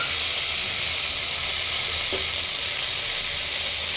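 Vegetables including cauliflower frying in oil in a pan for khichuri, a loud continuous hiss and sizzle close up with only faint stirring, no talk.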